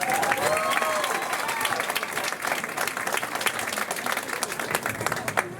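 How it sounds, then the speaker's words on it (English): An audience at a magic club show claps loudly and steadily throughout, a dense sustained applause from a room of people with no break. "Give these guys a round of applause."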